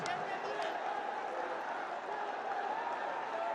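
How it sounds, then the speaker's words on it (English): A stadium crowd at a Bangladesh Premier League T20 cricket match between Noakhali Express and Rangpur Riders claps and cheers in a continuous roar, with a commentator's voice running faintly underneath. "Clapping."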